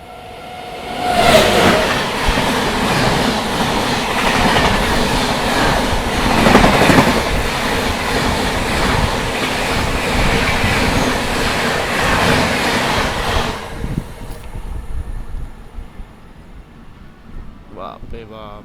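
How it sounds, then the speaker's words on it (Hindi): The Bhubaneswar Tejas Rajdhani express speeds past at close range, a loud roaring rush with rattling wheels lasting about twelve seconds before quickly fading, with a voice speaking near the end. "ऐसा भगाते हुए आ रही है तेजस राजधानी भुवनेश्वर तेजस।"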